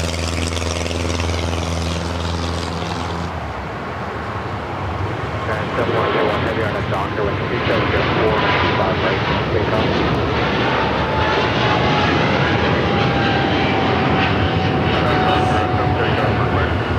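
Airliner taxiing at LAX, a loud, steady engine roar and whine close by, rising as it starts to move and holding for the rest of the stretch.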